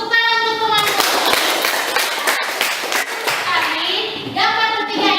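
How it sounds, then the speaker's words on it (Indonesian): Classroom of children clapping hands in applause, a steady burst of claps close by, with children's voices and harmonic chatter rising over it at the start and end. "Tepuk tangan untuk teman-teman."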